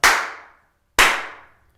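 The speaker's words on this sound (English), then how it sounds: "If I clap my hands" Two sharp hand claps about a second apart in a small untreated room, each a loud crack followed by a clear ringing reverberant tail that dies away over roughly half a second.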